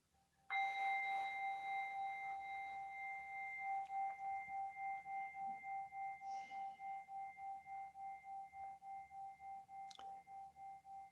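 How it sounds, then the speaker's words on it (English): A meditation bell is struck once and rings out with a clear, sustained tone that slowly fades, its shimmer pulsing steadily over about ten seconds in quiet surroundings. "allow the sound of the bell to be fully present in your mind"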